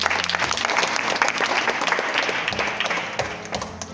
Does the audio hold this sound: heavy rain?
no